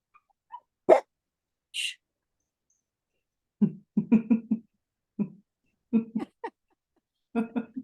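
A dog gives a few short, soft barks and whimpers indoors. The sounds are sparse and come in scattered bursts with quiet gaps between them.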